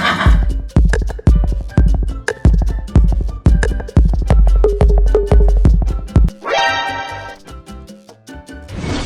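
A horse's hooves pound in a steady, fast rhythm for several seconds, then stop as the horse lets out a loud, shaky whinny that fades at the end.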